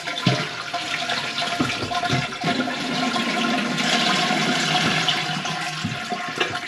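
A leaking toilet with a faulty ball valve flushes with a rushing gurgle of water that swells and continues steadily, close by, with no talking.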